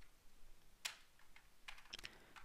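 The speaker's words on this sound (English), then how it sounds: "So we type" Typing on a computer keyboard while entering commands to create a Windows 7 boot sector, a few quiet, irregular key clicks clustered in short bursts with no talking.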